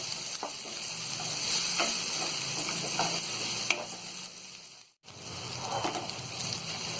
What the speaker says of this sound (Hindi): तो यहाँ ये टमाटर हल्के फ्राई हो गए हैं और ये थोड़े गल भी गए हैं।